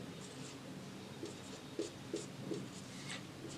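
A pen writes values onto paper for a physics numerical: soft, close scratching strokes in short irregular bursts over a steady faint room hiss, no voice.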